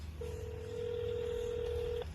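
Phone on speaker during a prank call, giving one steady ringback tone that lasts about two seconds over faint background hum.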